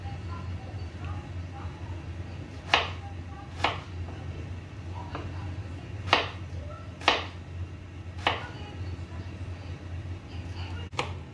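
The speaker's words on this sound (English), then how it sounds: "Now we're cutting the potatoes." Potatoes being cut with a knife: about eight separate sharp chops land on the board at irregular one-second intervals over a steady low background hum.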